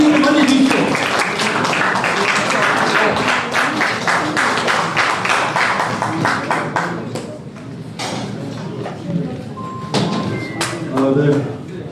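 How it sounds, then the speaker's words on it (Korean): An audience at a political party forum in Korea applauds to welcome a lawmaker, dense loud clapping that gradually fades, followed by thuds and a voice starting to speak over the last of it. "여러분, 박수로서 김선동 의원을 맞이해주십시오."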